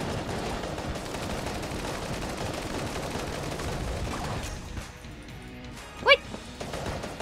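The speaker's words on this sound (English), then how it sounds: "This gun, like, it does shoot really, really fast" Rapid fire from a fast-shooting gun in Enter the Gungeon, a dense rattling stream of quick shots layered over game sound, thinning out near the end with one sharper high blip.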